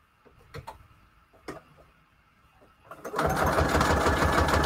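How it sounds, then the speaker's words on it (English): A few soft clicks and handling taps come first, then a sewing machine starts a straight stitch through book-page paper pockets, running as a loud, rapid, steady mechanical rattle to the end. "let's put this over here to sew"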